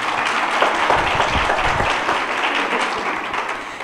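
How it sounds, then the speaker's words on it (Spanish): Loud, sustained applause from a church congregation, many hands clapping continuously without a break. "Vamos a dar un aplauso al Señor."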